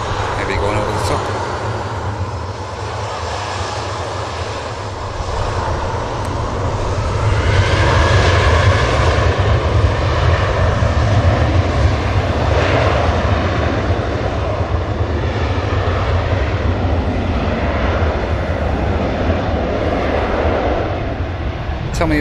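An aircraft departs from an airport, its engines a broad, steady roar that swells after a few seconds and holds loud and fairly close for the rest of the stretch, with no talk over it.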